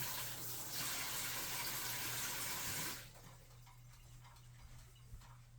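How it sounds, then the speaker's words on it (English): A kitchen faucet streams over a metal whisk being rinsed after it sat in dishwater, a steady quiet rush that cuts off after about three seconds and leaves faint drips and handling noises. "I'm rinsing off my whisk because I put it in my dishwater too. So I'm going to rinse this off real quick."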